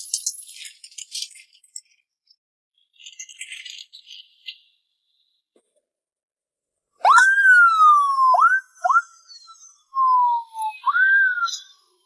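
An ambulance siren wails in a series of sweeping, rising and falling tones that are loud and close, after a stretch of faint, scattered rattling with no talk.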